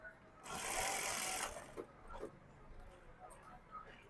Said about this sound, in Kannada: ಈ ರೀತಿ ಕ್ರಾಸ್ ಆಗಿ ನಾನು ಸ್ಟಿಚ್ ಹಾಕಿ ತೋರಿಸ್ತೀನಿ ನೋಡಿ